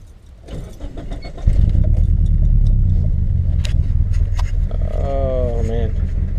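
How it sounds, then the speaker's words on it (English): A Suzuki X90 engine turns over and settles into a rough idle, a loud, steady low rumble that runs throughout up close after a brief cranking start, with a faint tonal whine near the end. "It's the roughest idle I've seen."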